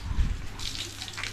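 Water poured over a Bike Blazer bike cover, a brief splashing and sloshing with low thuds at the start and hissing spatter after, fairly quiet.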